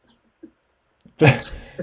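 A single loud, close sneeze bursts out after a near-silent stretch, followed by a faint breathy trailing sound.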